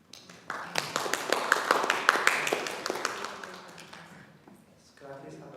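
A round of applause from a small group at a youth advisory committee meeting, claps building quickly then thinning out, with voices murmuring underneath.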